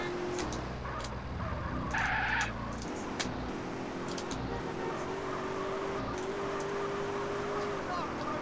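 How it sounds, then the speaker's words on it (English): A car drifts in GTA San Andreas, its engine droning steadily with skid noise swelling around two seconds, all close and continuous beneath faint game chatter and voices. "Stop drifting, man."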